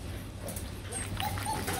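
A 55-day-old Rottweiler puppy whimpers in a few faint, thin high whines over low background hum, brief and close by.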